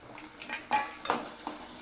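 Finely chopped onions frying in a pan for an egg curry, with a soft sizzle and a few light stirring scrapes, close but quiet, with no talking.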